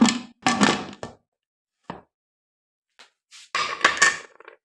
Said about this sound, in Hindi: अब प्रेशर कुकर का मैं ढक्कन बंद कर रहा हूँ।